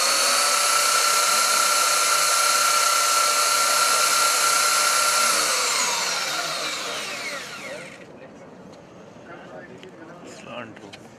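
A power sander whines steadily while smoothing a tree-ring sample. The sound is loud and continuous, then winds down and stops after about eight seconds, leaving quiet room noise.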